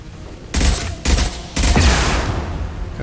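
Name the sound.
gunfire from the video game Mass Effect 2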